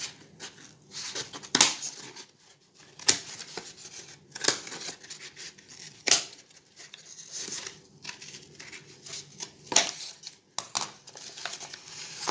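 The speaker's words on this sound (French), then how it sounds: "découper le cône qui est ici avec 2 ciseaux" Scissors cutting through a cone of material for a homemade cup-and-ball toy, a series of crisp snips and crinkling cuts repeating every second or two, close and fairly quiet, with no talk.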